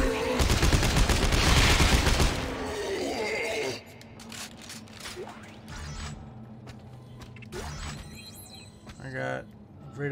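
Rapid gunfire from a weapon in the sci-fi horror game Dead Space 3, a loud, dense burst over the first few seconds that cuts off into quieter game ambience with scattered creaks and mechanical noises.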